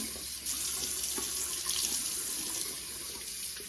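Continuous rush of warm water flowing steadily through a hose, flushing antifreeze out of a CoolSculpting machine, close and even, with no voices.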